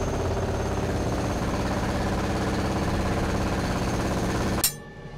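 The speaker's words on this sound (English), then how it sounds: "Let's use this awesome," A jackhammer mining rock in the video game Underrail hammers steadily and loudly in a dense, continuous rattle, then cuts off abruptly near the end, leaving a quiet low hum.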